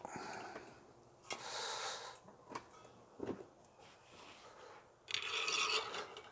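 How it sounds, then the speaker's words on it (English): A half-inch wrench working a Coleman double mantle lantern valve clamped in a vise, heard as several bursts of raspy metallic scraping and rubbing close by, with short clicks between them and no speech. "Now I can stick the valve down in the vise, put my 1/2-inch wrench back on it."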